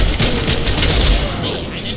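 Rapid, loud bursts of gunfire in the video game The Darkness II rattle almost nonstop in a dense volley, with booming shots layered together.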